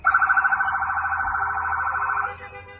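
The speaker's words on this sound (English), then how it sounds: "federal vehicles start moving toward the maroon SUV," Federal vehicles move toward a maroon SUV with sirens wailing: a rapid, high warbling tone that settles into a steadier wail before cutting off, fairly clear and not masked by speech.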